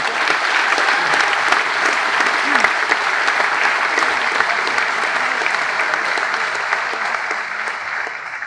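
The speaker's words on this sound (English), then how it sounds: "Can I please have a huge round of applause for Jock Millen" A large audience at an Apprentice of the Year 2024 awards night claps in loud, sustained applause, a dense steady roar of hands that fades only slightly at the end.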